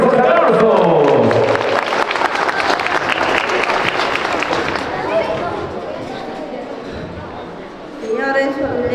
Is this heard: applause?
yes